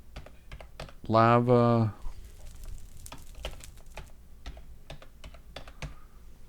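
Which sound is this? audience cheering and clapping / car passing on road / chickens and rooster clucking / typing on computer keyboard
typing on computer keyboard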